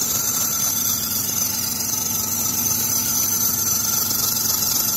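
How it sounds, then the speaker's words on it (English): A Chrysler 300 engine runs steadily up close, with a constant high whine or squeal from the idler pulley or belt tensioner over the engine hum. "it sounds like it's either this idler pulley or the tensioner right there"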